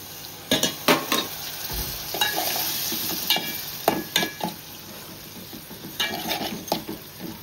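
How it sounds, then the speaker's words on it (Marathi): Prawns sizzle in a cooking pot with turmeric and masala while a spoon stirs them, giving a steady frying hiss broken by repeated scraping clatters of the spoon against the pot. "आता आपण जी कोळंबी स्वच्छ धुवून घेतलेली आहे ती आपण पातेल्यात टाकूया"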